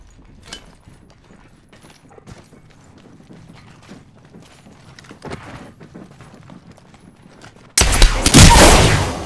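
Gunfire strikes a player in Apex Legends during a solo match, with quiet scattered game sounds giving way to a sudden loud burst of rapid shots near the end.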